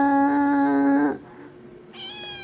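A pet cat gives a loud, drawn-out meow while its ears are being cleaned, then a short pause and a second, shorter meow close to the microphone.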